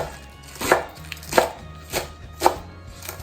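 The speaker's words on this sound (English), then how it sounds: "I'm just going to roughly chop it" A knife roughly chops a pack of fresh spinach leaves on a board. Four or five crisp, separate chops land at an uneven, unhurried pace, close up, with no talking.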